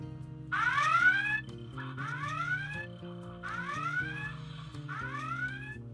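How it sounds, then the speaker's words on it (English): A Playmates Star Trek USS Enterprise D toy's red alert alarm: repeating rising whooping sweeps, four cycles over a low droning hum, loud and clear with no talking. "The red alert."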